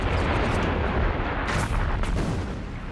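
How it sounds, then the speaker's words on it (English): A bomb bursts during a First World War trench raid: a loud, deep, rumbling blast rolls out with sharper cracks on top, then trails off into continuous heavy noise. "A bomb burst"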